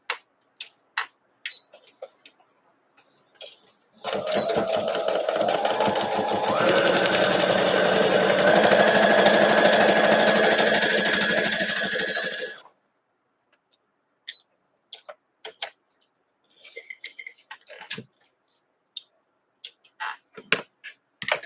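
A sewing machine stitches a quilt block in a steady whirring run of about eight seconds, close and fairly loud, framed by scattered clicks and small handling noises before and after.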